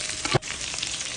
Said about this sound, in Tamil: வெண்டைக்காய் நல்லா எண்ணெயிலேயே நல்லா இப்படி வதங்கிடணுங்க